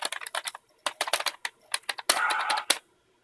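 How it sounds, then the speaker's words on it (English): Quick, uneven clatter of keys being typed on a computer keyboard hooked up to a Dreamcast console, close and crisp, with bursts of strokes, a brief pause, then a longer press and a final tap. "Type some stuff, type a message on Facebook."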